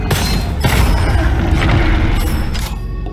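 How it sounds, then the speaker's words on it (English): Explosions boom in the first-person shooter Gunfire Reborn, loud, dense, overlapping blasts and rumbling debris filling the whole stretch with no pause. "Note, you can hurt yourself with your explosions."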